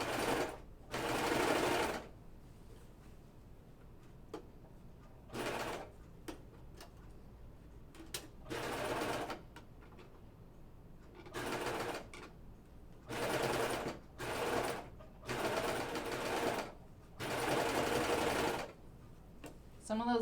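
A sewing machine stitches a Myosotis dress in repeated bursts of fast, whirring runs separated by short pauses, close and fairly clear.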